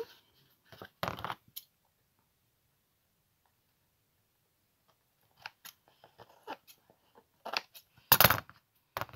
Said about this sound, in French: Pardon pour le bruit à chaque fois que je balance les ciseaux